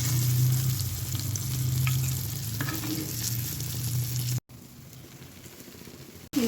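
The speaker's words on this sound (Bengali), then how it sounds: "এই জন্য আমিও ইলিশ মাছ সরিষার তেলে এখানে ভাজি করছি।" Hilsa fish fries in mustard oil with a steady, close crackling sizzle that drops out briefly near the end before returning.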